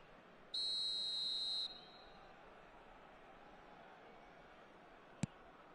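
A referee's whistle in the eFootball PES 24 football video game gives one sharp, shrill blast of about a second over quiet crowd ambience, followed later by a brief click.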